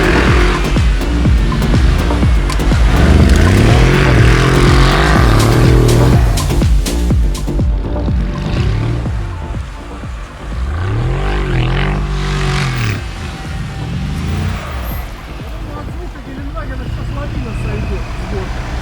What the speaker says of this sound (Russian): Заезд машины будет сейчас с нормальным мотором немецкой машины